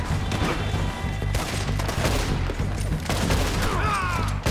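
Red Dead Redemption 2 gunfight: a loud, continuous volley of overlapping shots and cracks fires in quick succession with hardly a pause, close and aggressive throughout.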